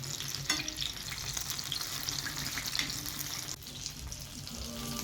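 Brinjals (eggplants) for a stuffed Andhra-style masala curry frying in a pan, with a close, continuous sizzle broken by a few stirring scrapes and clatters, and no voices.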